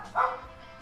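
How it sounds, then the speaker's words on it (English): A single short dog bark indoors, somewhat muffled and moderately distant, followed by quiet. "They're just barking."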